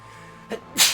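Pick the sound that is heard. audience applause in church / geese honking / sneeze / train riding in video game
sneeze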